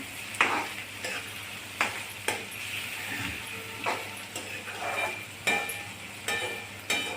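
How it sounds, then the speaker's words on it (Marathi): A spatula scrapes and stirs tomato, onion, urad dal and green chilli sautéing in a pan for tomato rava upma, with regular scraping strokes about once a second over a soft, steady sizzle and no talk. "टमाटा, कांदा, उडदाची डाळ, हिरवी मिरची छान परतून घेणे."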